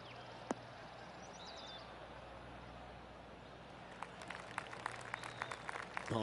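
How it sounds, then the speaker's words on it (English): Scattered polite applause from a golf gallery in PGA Tour 2K22, light clapping building softly near the end after a quiet ambient stretch with occasional bird calls. "Oh, golf clap."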